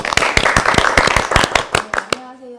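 An audience claps at an online community talk show, with a brisk patter of scattered hands that fades out as a voice begins.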